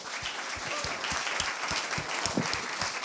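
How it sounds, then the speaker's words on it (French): Audience applause at a business leaders' colloquium in the Avignon area, a steady round of clapping from a crowd, sustained and fairly loud for the whole stretch. "Des applaudissements."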